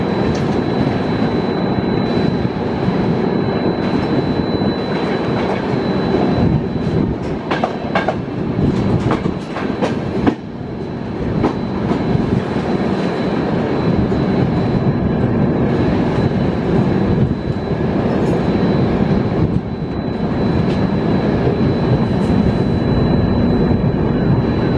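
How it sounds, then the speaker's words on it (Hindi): A passenger train, the Anga Express, curves through Sir M. Visvesvaraya Terminal, with loud steady wheel rumble, rhythmic clickety-clack over rail joints and squeal across the whole stretch, no talk. "हमारा लास्ट कोच भी बिल्कुल कर्व ले चुका है,"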